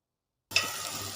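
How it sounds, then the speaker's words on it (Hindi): After a brief silence, a sudden sharp sizzle erupts as hot cumin tempering hits dal fry, then settles into a steady crackling hiss. "तड़का रेडी है। अब इसे हम दाल में डालेंगे"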